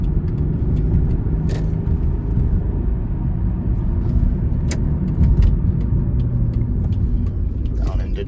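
A 1993 Ford Probe GT drives on a winding road, its engine and tyre rumble steady and close throughout, with occasional faint clicks over the continuous road noise.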